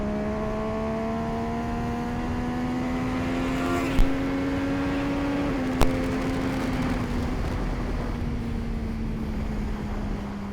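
MV Agusta Superveloce motorcycle engine climbing steadily through its rev range out of a corner, a loud continuous rising note with rich harmonics, a brief gear-change dip partway through, then carrying on strong.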